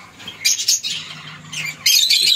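Blue masked and blue Fischer's lovebirds in a breeding setup squawk and chirp in sharp, repeated bursts, close and fairly loud, with some wing flutter and no talk.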